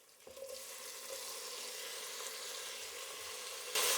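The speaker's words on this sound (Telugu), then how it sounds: "ఇప్పుడు టమాటా వేసుకుందాం." Tomatoes drop into a pan of frying onions, followed by a steady low sizzle that swells louder at the end, with no talking.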